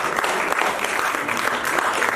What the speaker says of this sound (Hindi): जोरदार तालियां एक बार डाकघर के लिए